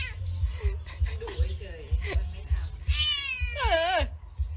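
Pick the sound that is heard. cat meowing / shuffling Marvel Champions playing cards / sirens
cat meowing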